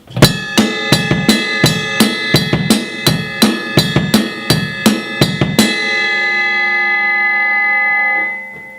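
A ride cymbal bell is struck in a steady rock beat of bright metallic pings with a few kick-drum thumps beneath, then left to ring out and fade.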